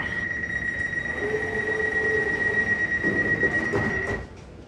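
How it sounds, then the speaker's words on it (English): An Elizabeth line train pulling into the opposite platform at an underground Crossrail station, a sustained tonal whine with wheel screech and rumble, moderately loud, then quickly fading near the end. "There's a train approaching the other platform."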